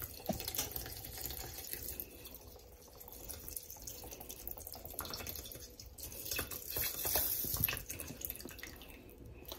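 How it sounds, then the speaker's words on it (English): Tap water runs into a pot of rice in a home kitchen, a close, uneven trickle and splash with small drips, varying in strength as the pot fills. "Yeah, I'm going to add some water to it, y'all."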